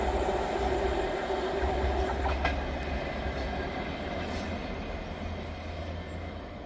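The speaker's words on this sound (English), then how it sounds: "13:07 Scotrail service from Leven to Edinburgh Waverley" A ScotRail train running from Leven to Edinburgh Waverley pulls into Inverkeithing station with a loud, steady rumble of wheels and engine. Faint wheel squeals and clicks come through as it slows, and no voices are heard.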